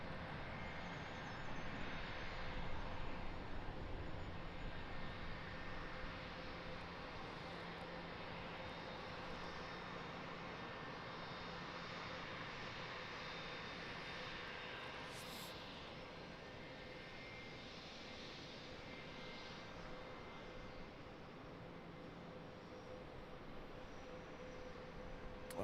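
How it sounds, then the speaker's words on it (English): Boeing 717 airliner taxiing at Charlotte airport, a sustained distant jet engine whine and rumble holding fairly steady throughout, with outdoor background noise. "here's our 717. Well, he's taxiing in a hurry"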